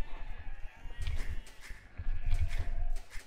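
Sheep bleat in the Age of Empires II strategy game, several short calls near and fairly loud against a faint continuous game background.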